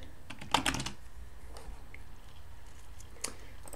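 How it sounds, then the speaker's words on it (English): Computer keyboard keys clatter as VHDL code is typed, with a quick burst of close keystrokes at the start followed by sparser, softer taps and a last cluster near the end, with no voices. "now we're just typing code here, VHDL code, into this window in Radiant."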